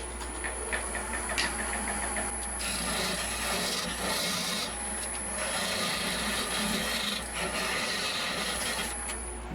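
A lathe tool parts a walnut bowl from its chuck, giving a steady, loud rasping scrape with a continuous high whine, rising and easing in intensity throughout, with no talking.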